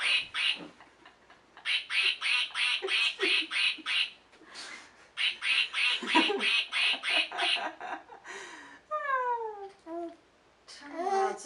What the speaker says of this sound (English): Press it, make it quack.